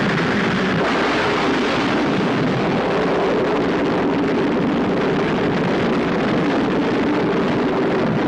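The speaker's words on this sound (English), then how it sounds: "10, 9, 8, 7, 6, 5, 4, 3, 2, 1. Engine start." A rocket engine ignites after a countdown and roars as a loud, dense, unbroken rumble with a windy hiss that holds steady from start to finish, with no voices over it.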